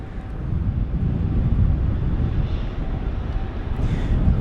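Airliner touching down at London Heathrow in gusty wind, a continuous roaring engine rumble mixed with buffeting wind noise on the microphone, fairly loud and steady throughout, with no voices.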